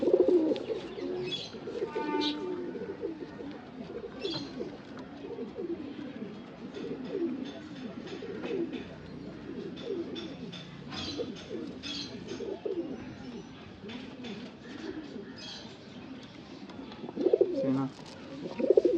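Pigeons coo in a loft among sale birds in Bangalore, a steady low murmur of overlapping cooing that runs throughout at moderate level, with occasional other bird chirps mixed in.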